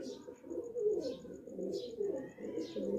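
Pigeons in a breeder's loft, several pairs kept together, cooing in repeated soft throaty phrases at close range, with faint higher chirps and a steady high tone in the background and no talk.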